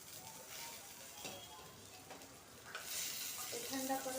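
Garlic and green chillies roast in a pan for an eggplant bharit, giving a steady close sizzle with scraping stir strokes that grows louder and brighter near the end.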